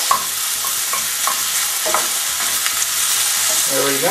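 Onions and green onions stir-fried on high heat in a pan for chicken enchiladas, a steady loud sizzle with scraping stir strokes throughout; a voice speaks briefly.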